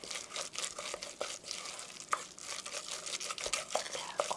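Ground meat mixture for meat toast is kneaded and stirred by hand until sticky, giving soft, continuous squelching and wet slapping sounds, close and fairly quiet with no talking.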